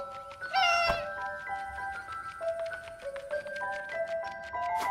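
A cat in the video game Memories Retold gives a clear meow early on, amid a soft game soundscape with sustained tonal notes and light tapping.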